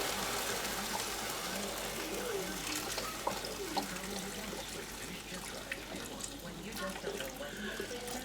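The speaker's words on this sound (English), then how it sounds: "I am just going to add in the whole 32 ounce container of beef broth in here" A 32-ounce container of beef broth pours into the pot of a Ninja Foodi Possible Cooker Pro, producing a soft, continuous splashing trickle at close range.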